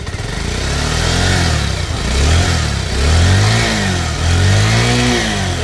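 A Bajaj Pulsar UG5 motorcycle engine, just repaired after a sticking throttle body, revs up in several rising and falling bursts over a steady idle, loud and close, with no voices.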